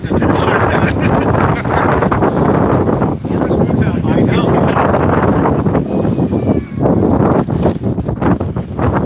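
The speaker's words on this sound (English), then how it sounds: "the wind is incredible" Strong outdoor wind buffets the microphone at an open-air vintage toy swap, a loud continuous rumbling roar with gusty swells, and voices can be heard talking underneath.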